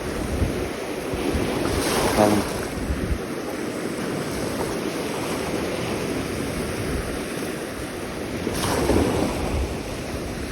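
Sea waves wash against the shore under steady wind buffeting the microphone, with two louder surges and a single brief spoken word in Turkish, heard while fishing.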